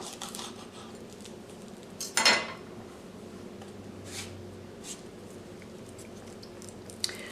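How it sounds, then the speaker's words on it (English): A knife cuts an onion in half with one short, crisp crunch in an otherwise quiet kitchen, followed by a few faint light knocks. "I am going to cut off the stem end and cut the onion in half."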